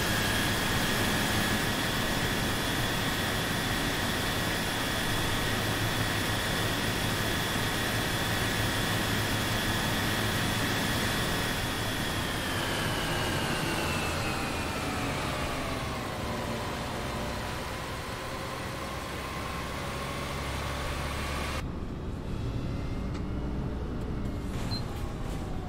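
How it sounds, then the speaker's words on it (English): Bus engine from the OMSI 2 bus simulator, a Volvo B8RLE or B7RLE 18m bus, droning steadily and loud throughout with whining tones that dip and fall midway, then a sudden change near the end. "Sounds like the engine's gonna blow"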